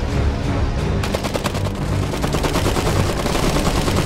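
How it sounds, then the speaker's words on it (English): Continuous rapid machine-gun fire in the game Iron Harvest rattles steadily through a dense, loud battle soundscape, with rhythmic rapid shots layered over rumbling combat noise. "They're shooting at us!"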